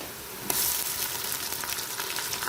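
Onion and garlic frying in oil in a pan, a sudden burst of loud hissing sizzle that then holds steady and crackling, with faint stirring, close up.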